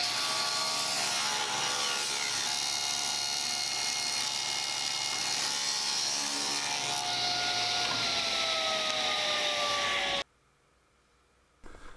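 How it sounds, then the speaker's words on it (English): A power saw cuts boards salvaged from a pallet to length, a loud steady whine of blade through wood running about ten seconds before stopping abruptly, leaving near silence with a brief faint sound at the end. "The next step is to cut everything to size and start assembling this manger."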